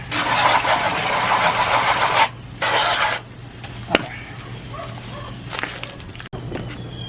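An RV engine runs with a broken belt spinning loosely, giving a steady low hum under a broad, rushing mechanical noise that drops out abruptly a few times.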